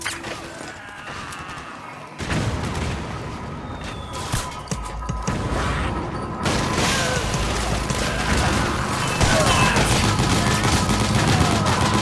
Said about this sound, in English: Use the machine gun!